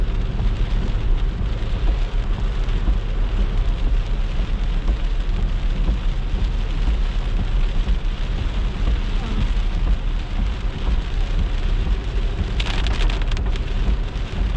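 Steady rain pours in southern Quebec ahead of a severe thunderstorm, a loud, unbroken hiss of drops on surfaces that holds evenly throughout, with a brief brighter burst near the end.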